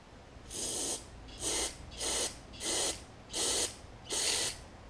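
Six short hissing bursts of aerosol spray, each about half a second, cleaning out the low-side jet of a Briggs & Stratton Nikki carburetor from a Craftsman T2200 riding mower, evenly spaced and close by.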